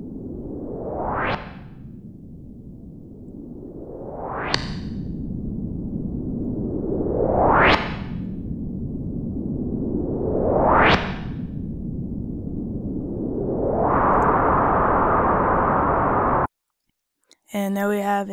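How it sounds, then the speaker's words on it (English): Four rising synth filter sweeps in Reason over a noisy tone, each swelling upward and snapping back, followed by a steady bright hiss before a brief cutoff. "And now we have an easy sweep effect for whatever sound we're playing."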